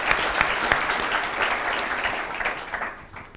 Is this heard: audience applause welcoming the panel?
yes